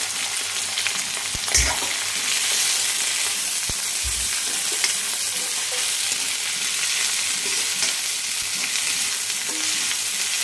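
Steady, loud sizzling of cluster beans frying in hot oil, with a few stirring scrapes and knocks against the pan early on.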